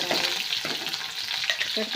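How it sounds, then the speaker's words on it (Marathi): Oil crackles and spits steadily as chili and garlic fry in a hot pan for methi bhaji, a close, continuous sizzle with small pops. "बघा आता तडतड"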